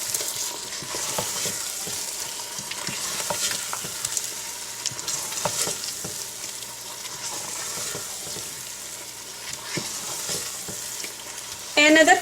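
Chicken tikka boti stirred into tomato masala in a pot for butter chicken: a steady scraping and sizzling stir that runs continuously at close range, with no talking.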